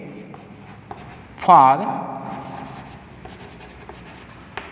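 Chalk or marker scratching on a board during a Class 12 matrix maths lesson, several short strokes and one louder drawn-out squeak, under a teacher's speech.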